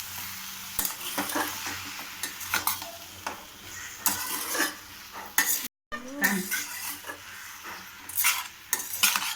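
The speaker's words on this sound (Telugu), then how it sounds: "ఇప్పుడు మనం టమాటా యాడ్ చేసుకోవాలి. బాగా తిప్పుకోవాలి." Tomatoes being stirred into cabbage chutney in a pan: a spoon scrapes and clacks against the metal in repeated bursts over a soft, steady sizzle, with a brief gap partway through.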